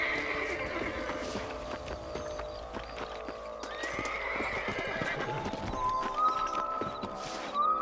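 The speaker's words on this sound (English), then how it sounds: "Let's get back on the horses and see what else is going on." Horses in the Red Dead Redemption video game whinny several times over a continuous patter of hooves clip-clopping on the ground, close and fairly loud, with a game soundtrack and faint voices underneath.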